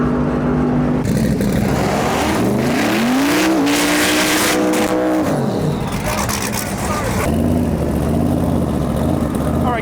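A fast Ford Mustang drag car idles and revs loudly at the line, its engine climbing and falling in pitch with bursts of throttle, while an announcer talks over it.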